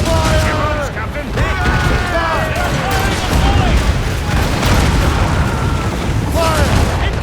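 Ship cannons blasting in a sea battle in Assassin's Creed Rogue, a sustained roar of overlapping booms and whistling shot, loud and near, with crew voices shouting over the din.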